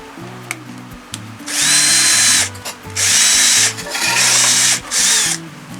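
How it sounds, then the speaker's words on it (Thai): A power drill whirs loudly in three sustained bursts, with short pauses between them as it bores into a homemade bamboo rocket, its dry, sticky fuel clogging the bit. "ใส่สว่านนะครับ สว่านหลอดสางครับ"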